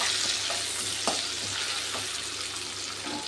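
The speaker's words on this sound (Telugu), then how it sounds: "కరివేపాకు వేసుకొని మొత్తాన్ని కలుపుతున్నాను" Upma with onion, peanuts and curry leaves is stirred in a hot pan, a loud, continuous frying hiss with a few faint spoon scrapes underneath, close up, no speech.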